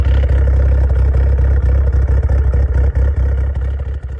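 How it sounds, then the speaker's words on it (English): Mitsubishi Evo 8 engine running with aftermarket cams on a stock ECU, a loud, steady rumbling idle with choppy, uneven pulses throughout and no talk. "This is the sound of the aftermarket cams with just the cams installed, no changes to the ECU."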